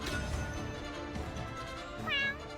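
A cat meows in the Shadowverse card game, a few short tonal meow calls with a clear rising cry near the end, fairly faint over a busy game background.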